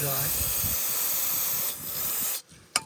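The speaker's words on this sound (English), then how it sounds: "then spray the inside, and you gotta make sure it's really" A loud steady hiss of spraying inside a valve cover from a 2013 Nissan Altima SV runs for about two seconds, then cuts off, followed by a short sharp click.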